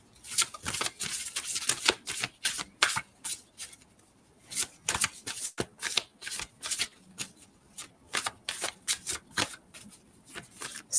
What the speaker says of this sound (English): Just going to shuffle a little bit here before I split the deck open.